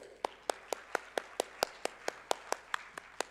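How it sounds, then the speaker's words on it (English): A few people clapping for a student team at an applied AI summit, slow evenly spaced claps at a steady rhythm, fairly faint in a large room with no talk over it. "Give them applause"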